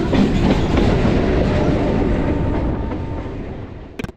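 Kolkata local train on the south section rumbling into Park Circus station, a loud close roar with rolling wheel noise that slowly fades as it slows, ending in a few sharp clanks.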